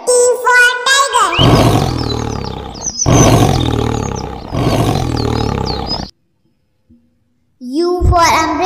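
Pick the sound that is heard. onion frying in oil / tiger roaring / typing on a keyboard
tiger roaring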